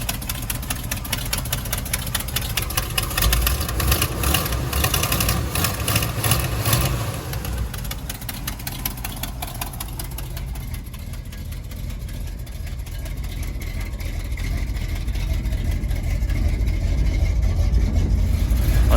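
Old Chevrolet C10 pickup engine idling after exhaust work on loose header bolts, a loud rough low rumble that dips slightly partway through then steadies and swells again, with a light ticking texture and no talk.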